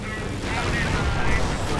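A bombing run in a World War II real-time strategy game, with a dense rumble of explosions and blasts, while a commentator talks over it.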